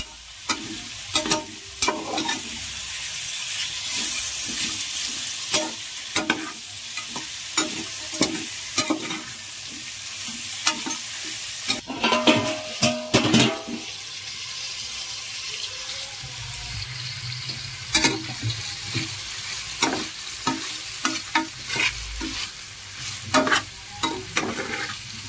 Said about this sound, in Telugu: మొత్తాన్ని మనం లైట్గా ఫ్రై చేసుకోవాలి.